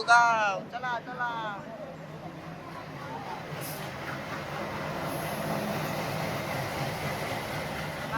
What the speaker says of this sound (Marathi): चला आपली ट्रेन पण येईल